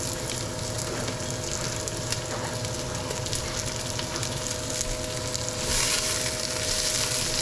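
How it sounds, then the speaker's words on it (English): Onions sauté in hot vegetable oil in a Dutch oven, giving a steady, close, moderately quiet sizzle and crackle that continues throughout with no talking. "I'm gonna take our onions and we're gonna start sauteing these."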